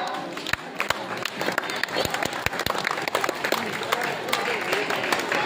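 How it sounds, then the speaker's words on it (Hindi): Applause from a crowd welcoming a teacher at a madrasa honouring ceremony in Azamgarh, steady dense clapping with sharp louder claps standing out, close and sustained throughout. "तालियों से स्वागत किया जाएगा"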